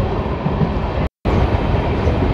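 A Lalkuan–Howrah passenger train runs along the rails, its steady, loud broadband rumble from the running carriages filling the whole stretch, with one very brief dropout partway through.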